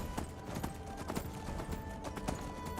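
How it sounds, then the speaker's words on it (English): Horse hooves in the video game Skyrim, a steady rapid clip-clop gallop with a faint whinny, moderately quiet beneath a game soundscape, no talk. "These horses are fucking fast, man."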